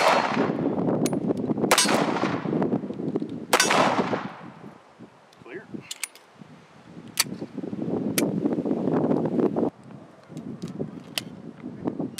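A Beretta 92F Samurai Edge pistol fires 115 grain Winchester rounds in an underground cave, with sharp loud reports at irregular intervals, each trailed by a long echoing tail.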